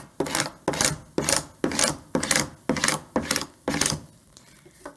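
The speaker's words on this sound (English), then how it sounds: "for good measure, I'm just going to burnish one more time" A burnishing tool rubbed firmly over vinyl transfer tape in about eight even back-and-forth strokes, each a close, dry scraping rasp with short gaps between, loud and alone, with no talking.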